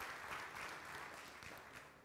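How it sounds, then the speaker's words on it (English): Church congregation clapping their hands at a Nazarene Sunday morning worship service in Lancaster, Kentucky, a steady wash of applause that carries on for about two seconds at moderate volume. "you give them a hand clap"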